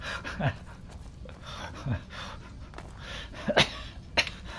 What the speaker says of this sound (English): now I've gone into a coughing fit